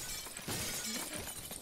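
Glass shatters in a Garry's Mod Five Nights at Freddy's game, a short burst of breaking with a crash that rings on briefly over a noisy in-game background.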